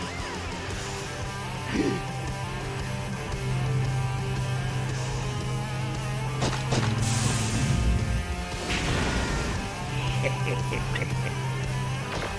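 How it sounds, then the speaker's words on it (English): In the Full Throttle Remastered video game, a freight truck detaches amid mechanical clanks, creaks and a crash, over a steady low engine hum that rises and falls across the scene. "Then he just detaches the truck."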